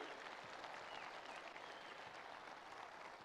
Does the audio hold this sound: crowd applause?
yes